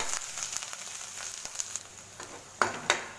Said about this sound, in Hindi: तेल गर्म हो चुका है। अब इसमें मैं लहसुन और अदरक डाल दूंगी।